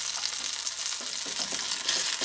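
Sichuan peppercorns and spring onions sizzle steadily in hot oil, a continuous bright crackling hiss heard close up with no talking, for an oxtail stew base.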